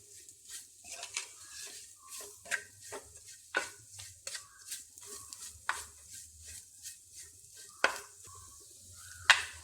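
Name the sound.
stirring chilli powder mixture frying in pan for fish curry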